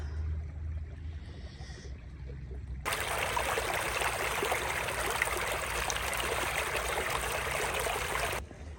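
Water of Marne Creek flowing over rocks, a steady broadband rush that starts abruptly and holds for several seconds before cutting off, with quieter low rumble before it.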